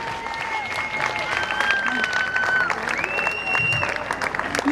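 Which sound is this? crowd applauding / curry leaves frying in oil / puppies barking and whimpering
crowd applauding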